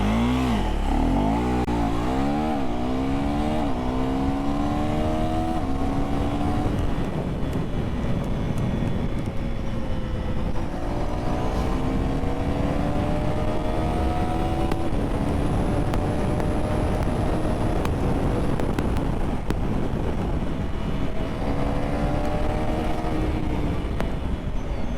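KTM Duke 390 motorcycle accelerating hard, its engine revving up through rising pitches with gear changes, loud and close, sustained for the whole stretch under heavy wind noise.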